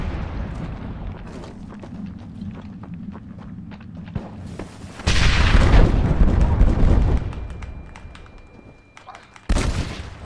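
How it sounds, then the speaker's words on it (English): Gunfire from a Red Dead Redemption shootout match crackles through the scene, with a loud, dense burst of shots around the middle and another sharp volley near the end, over quieter in-game clatter. "I just shot you 10 times."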